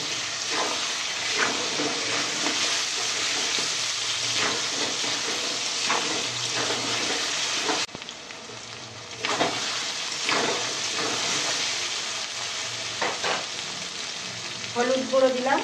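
Ginger-garlic paste sizzling in a hot pan while being stirred, a steady crackling fry broken by scraping strokes and a brief dip, with faint water sounds and occasional quiet talk.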